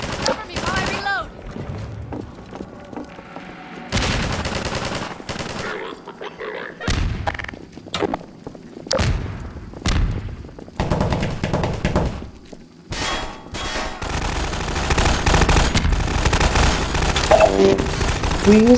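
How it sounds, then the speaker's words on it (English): Bursts of distant gunfire and heavy thuds from city skirmishes in Half-Life 2, coming in repeated volleys with short gaps, fairly loud and dense toward the end. "providing glimpses of skirmishes or the sounds of distant fighting"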